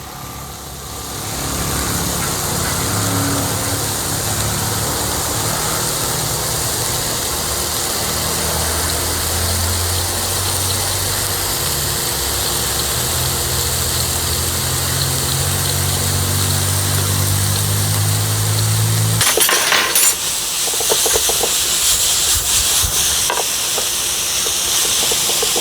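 Leek sautéing in a pan seasoned with salt, pepper and nutmeg, a steady broad sizzle and hiss running close and continuous, with an abrupt shift to a sharper, crackling fry near the end.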